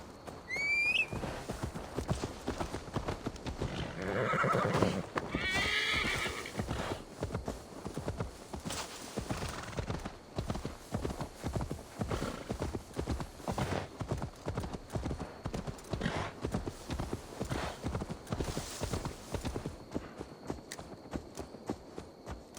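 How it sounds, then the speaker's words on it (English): Steady clip-clop of hooves trotting throughout, with a horse's whinny near the start, in the video game Assassin's Creed Valhalla; busy and continuous, no talking. "Now to deliver Magni his horse."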